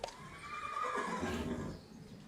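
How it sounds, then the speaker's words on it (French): A Shetland pony gives a single loud, drawn-out whinny lasting about two seconds, its pitch rising and then trailing off, close to the listener. "Ça, c'est un cheval très dangereux."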